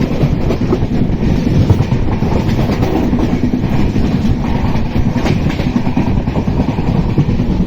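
Steady, loud rumble and rhythmic clickety-clack of wheels on track heard from inside an LHB coach of the Karnataka Sampark Kranti Express, running continuously with no talk.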